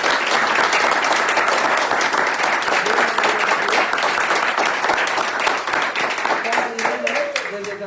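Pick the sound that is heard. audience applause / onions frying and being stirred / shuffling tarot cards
audience applause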